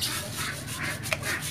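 Steady abrasive rubbing as sandpaper works over a coconut shell bonsai pot, a continuous close scratchy hiss with slight swells in pressure and no talking.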